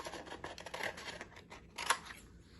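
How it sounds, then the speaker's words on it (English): Scissors snipping through paper to make beads: a few soft, close crisp cuts and rustles, faint and irregular, with one sharper snip near the end and no talking. "the other way that we can make a bead is by cutting with scissors, simply cutting with scissors"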